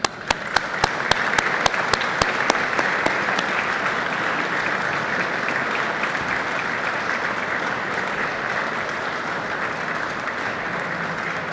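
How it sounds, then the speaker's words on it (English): Audience at a Caterpillar press conference giving a warm round of applause, opening with a few sharp separate claps that swell into steady, dense clapping from a crowd, loud and sustained. "Please come up and we want to give you a warm round of applause."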